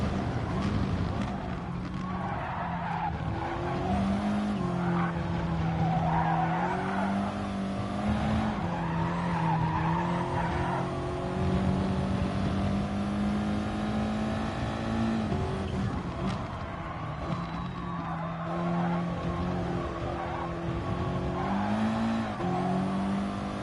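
Gran Turismo-style Gr.4 race car lapping Spa in a racing video game, a steady loud engine drone rising and falling through gear changes with tire squeal and skids, continuous and up close with no talk.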